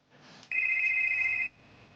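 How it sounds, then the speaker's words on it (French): A phone rings with one steady electronic tone lasting about a second, loud and alone, preceded and followed by a faint hum. "Et le téléphone de Nathalie va sonner."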